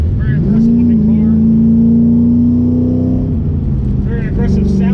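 A Kenny Brown-built 2005 Ford Mustang GT CSR 69 with a Boss 9 hood scoop revs its engine up to a steady high drone and holds it several seconds before dropping back, with voices talking over the loud, close exhaust.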